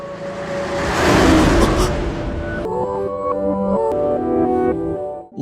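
A speeding car in an anime scene rushes past with a loud swelling roar that cuts off abruptly, then gives way to a sustained musical tone, no voices.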